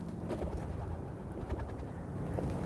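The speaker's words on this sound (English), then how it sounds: "if you can hear the birds right now" Pigeons or doves cooing outdoors in Cheyenne, Wyoming, soft low calls repeating over a steady outdoor background hum, fairly faint and unaccompanied by talk.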